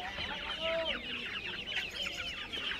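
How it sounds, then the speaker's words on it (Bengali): Several chickens cluck and squawk busily together at a village market in Bangladesh, close and continuous, with overlapping calls throughout. "এটা হলো টাইগার মুরগিটা।"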